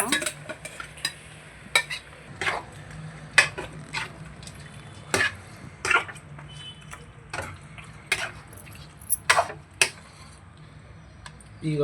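Chicken roasting in oil in a pan for a restaurant-style chicken soup, with frequent quick clinks and scrapes of a utensil stirring over a low sizzle, close up and without talking.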